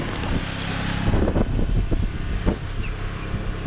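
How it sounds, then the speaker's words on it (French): Wind gusts buffet a microphone outdoors beside a Hymer MLT 580 motorhome, producing a loud, rumbling, irregular roar that swells and dips throughout. "Oh, il y a du vent là."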